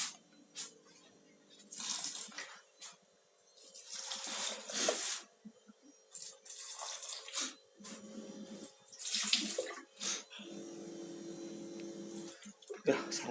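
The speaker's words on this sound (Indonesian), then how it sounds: "Biasanya sih siram gini secukupnya, terus ntar sore siram lagi." Water splashes and pours from a container onto plants in irregular bursts, with pauses between pours and faint background hum.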